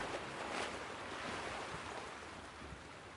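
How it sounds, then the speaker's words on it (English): Ocean surf rolling onto a beachfront, a steady broadband wash of waves with a slight swell early on, heard alone without voices. "Well, no wonder you're hearing the ocean, silly."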